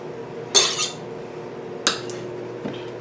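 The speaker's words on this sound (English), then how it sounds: "we'll take the last of our stick of butter here and cut it up, throw it down in there" Metal utensil clinks and scrapes against a pot as a stick of butter is cut up and dropped onto potatoes for mashing; two sharp clinks and a fainter third, close and clear, with no voices.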